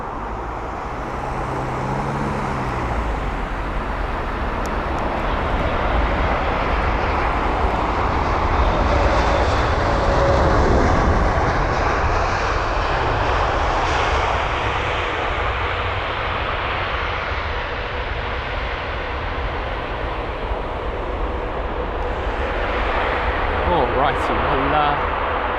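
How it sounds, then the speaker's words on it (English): A Kenya Airways jet airliner arrives at London Heathrow, its engine whine and rush steady and moderately loud over distant road traffic. A person talks over it at times. "that was a nice arrival there from Kenya Airways"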